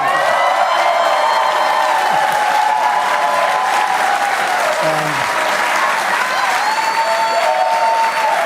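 Steady, dense applause from a large rally crowd, loud and continuous throughout with scattered cheers and whoops rising above the clapping.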